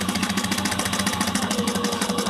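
Sewing machine back stitching close along a zipper on a sling backpack: a rapid, steady mechanical chatter of needle strokes with a low motor hum, continuous and close, no voices.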